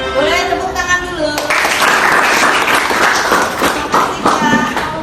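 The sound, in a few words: class applause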